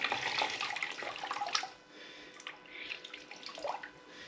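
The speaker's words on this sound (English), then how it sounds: "it's just a question of rinsing our sponge." A sponge being rinsed in water while cleaning a BMW 330Ci interior gives faint, close splashing and trickling that fades to quieter dripping.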